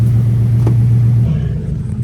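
A rolled BMW M5 E60 with a V10 engine rumbles steadily and low while driving, a deep continuous drone that shifts slightly in tone partway through, with no voices.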